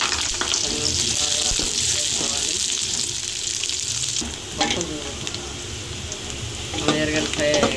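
Onion and garlic frying in oil in a pan, a loud continuous sizzle that softens midway, with a few stirring scrapes and some faint background voice.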